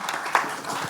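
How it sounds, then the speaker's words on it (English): Audience applause for the cast at a trailer launch event for a film about firefighters: a short burst of dense, steady clapping from a crowd, with one sharper clap standing out. "Let's have a big round of applause for the cast there."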